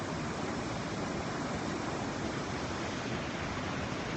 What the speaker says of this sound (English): So the water ripples over the rocks.